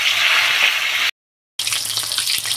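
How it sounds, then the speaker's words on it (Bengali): Pangas fish frying in hot oil, a steady loud hiss and sizzle with a brief silent gap midway, then the crackling sizzle resumes. "দেখেন কি সুন্দর করে লাল লাল মাছটা আমার ভাজা হচ্ছে"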